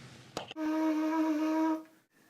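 A ram's horn shofar blown at its lowest pitch, giving one steady, low, buzzy tone of about a second and a half that is close and clear, then fades out.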